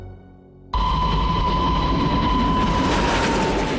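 A train rumbles along the rails at close range, a loud, steady roar with a constant whine that begins abruptly after a short quiet lead-in and continues unbroken.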